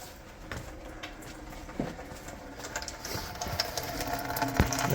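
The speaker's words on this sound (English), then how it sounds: "That is fuel going into the bucket." A fuel pump on a 1980 Mercury Capri pushes fuel from the lines into a bucket, a rapid mechanical whir with faint splashing and clicks that builds slightly over the clip.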